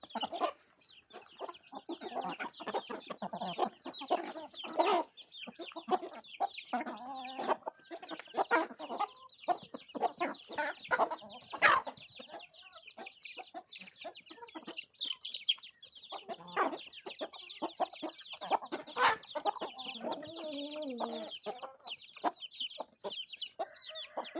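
Several chickens and young roosters cluck and chatter busily close by, with sharp overlapping calls and occasional louder squawks filling the whole stretch.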